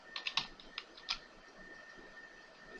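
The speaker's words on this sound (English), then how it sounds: "we're going to type in C:, and now type in mkdir space" Keys typed on a computer keyboard while entering commands to set up a Windows ME build in VirtualBox: a quick burst of clicky keystrokes followed by a few isolated taps, fairly quiet over a faint steady electronic hum.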